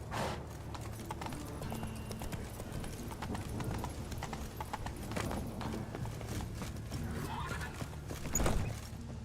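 Roach, the horse in The Witcher video game, gallops with a steady, quick clip-clop of hooves at moderate loudness and a brief louder burst near the end.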